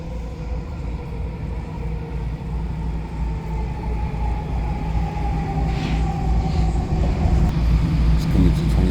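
An eastbound SkyTrain rolls along its rails near Edmonds, heard from inside as a constant low rumble with a faint rising whine, growing slightly louder toward the end.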